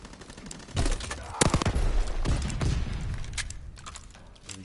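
Gunfire in a tactical shooter match comes as bursts of close, punchy shots, a few heavier booming hits and rapid volleys, over a steady game background.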